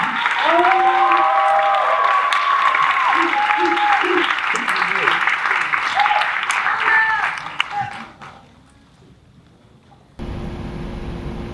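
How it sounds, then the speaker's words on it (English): Sustained audience clapping at a design school talk event, dense and loud with some voices mixed in. It fades out near the end, followed by a brief quiet gap and then a different sound. "Please keep clapping"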